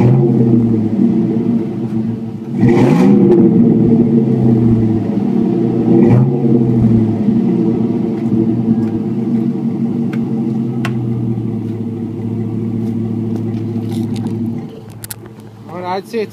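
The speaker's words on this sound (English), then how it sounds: "I'm going to do a little bit of a rev on my exhaust right here." A 2001 Chevrolet Silverado engine revved through a welded Thrush muffler exhaust: deep rumbling idle with two sharp throttle blips early on, then a long steady drone before settling, loud and close.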